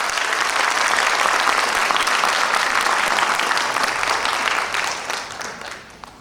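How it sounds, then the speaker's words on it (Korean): An audience at an education graduate school alumni association event claps loudly, a dense, sustained round of applause that holds steady before tapering off at the end. "다시 한번 힘찬 박수 부탁드립니다."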